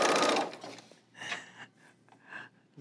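A Brother L890 serger stitches fabric in a loud, rapid whir at the start, then follows with a few shorter bursts of stitching separated by pauses.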